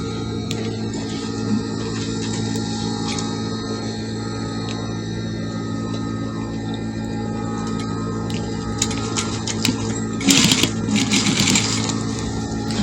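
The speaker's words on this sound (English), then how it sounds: "So I'll sew the other side." A sewing machine stitches the side seam of a kids' peplum dress, a rapid steady mechanical clatter running throughout, with a brief louder rattle of handling near the end and no speech.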